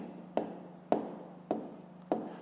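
Handwriting on paper while working a fifth-grade maths exercise, four close, soft repeated pen or chalk strokes at an even rhythm.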